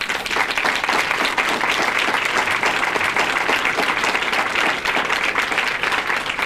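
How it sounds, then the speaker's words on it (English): A crowd at a book signing event with former New York governor Mario Cuomo breaks into sustained applause, dense and loud clapping filling the room evenly throughout. "I take it you're applauding for Mama and Papa"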